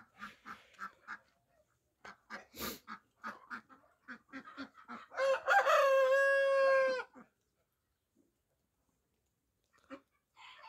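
A rooster crows once, loud and close, a long ragged call lasting about two seconds, preceded by scattered clucking and other poultry calls from a backyard flock, with a few faint peeps afterward.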